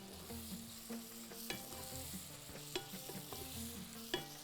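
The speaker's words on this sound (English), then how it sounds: "While sauteing it" Seafood with black lemon sautés in a pan, giving a soft continuous sizzle broken by several brief stirring scrapes and clinks, close but quiet, with no talking.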